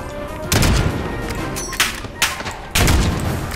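Gunfire in a video game: loud nearby bursts and single cracks of shots arriving in uneven clusters, with a faint voice briefly in the background.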